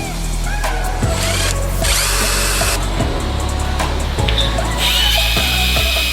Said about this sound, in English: Certain time we have to do the drilling and cutting